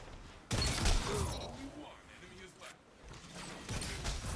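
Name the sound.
shotgun shots in Destiny video game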